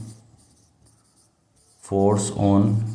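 Writing on a board during a Class 12 physics lesson on electric charges and fields makes close, scratchy, rhythmic strokes for about two seconds before a teacher starts speaking in Hindi.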